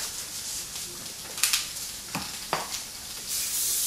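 Lentil burger patties fry in oil in a pan, a steady soft sizzle with a few sharp crackles and spits, fairly quiet and with no talk.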